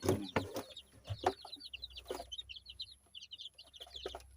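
Four-day-old domestic chicks, just out of the incubator and kept in a heated brooder box, give rapid high-pitched peeping. The cheeps keep up a busy chorus, with a few low knocks and shuffles at the start.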